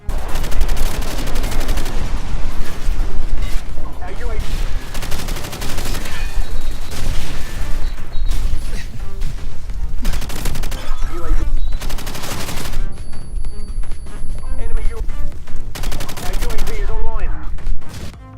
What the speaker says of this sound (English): And here's some gameplay of the G36.